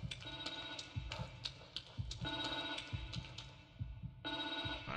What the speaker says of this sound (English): Evil Within 2, you answer phone calls.